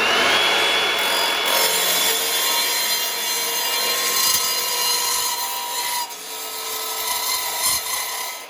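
Saw cutting through clamped wood boards stacked together for a bookcase upcycle: loud, continuous rasping strokes close up, fading slightly partway through before resuming with a few sharp knocks near the end.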